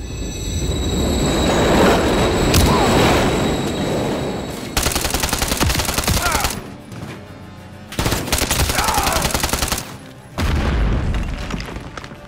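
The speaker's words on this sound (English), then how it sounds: "Another train coming." A train rushes past in Call of Duty: Modern Warfare III, a loud roaring passage broken into rapid clattering bursts as the cars rumble by, with sharp booming impacts and short gaps between sections.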